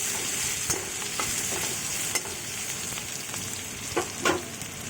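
Onion and garlic sizzle steadily in a hot pan, with occasional clinks and scrapes as they are stirred.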